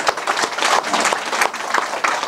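An audience at a classical-texts teacher training session applauds, many hands clapping in a dense, uneven patter throughout, moderately loud and without talk.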